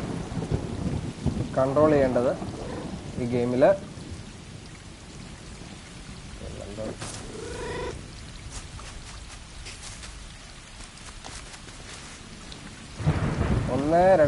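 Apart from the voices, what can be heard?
rain and thunder in video game Stray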